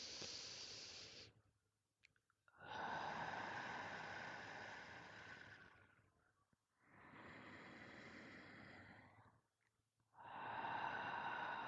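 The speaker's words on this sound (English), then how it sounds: "please close your eyes and begin to take 3 deep breaths at your own" Slow deep breaths taken during a guided meditation, three long airy inhale-exhale swells separated by short silences, close and quiet.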